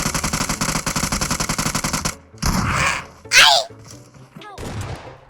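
Rapid automatic gunfire in PUBG Mobile, a steady loud burst of evenly spaced shots for about two seconds, followed by a few heavy impacts and sharp noises with voices talking.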